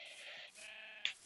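A sheep in the Minecraft survival game bleats, a faint, drawn-out tone with a short, sharper bleat near the end.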